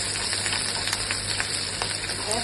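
Spice masala frying in a pan over medium heat, a dense, even sizzle heard up close with faint scattered crackles and no pauses.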